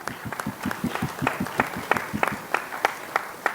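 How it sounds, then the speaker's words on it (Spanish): An audience applauds a teacher at a Spanish-language event, with sharp, distinct claps at a quick, fairly regular pace that stay close and clear for a few seconds without speech. "Un aplauso, por favor, para el maestro."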